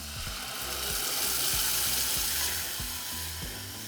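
Green salsa sizzling as it hits hot oil with diced onion in a pan, a loud close crackling hiss that holds steady for a few seconds.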